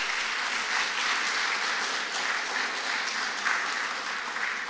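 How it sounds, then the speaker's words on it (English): Steady applause from a conference audience, a dense wash of clapping that holds at an even level for several seconds. "Let's give a big applause to Professor."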